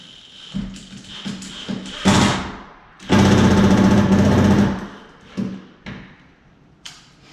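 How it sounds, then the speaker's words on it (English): A cordless impact driver on a low setting buzzes in short bursts, then hammers steadily for about two seconds as a screw drives into a door, followed by a few brief clicks and taps. "I like to drill one and drive my screw in just to make sure."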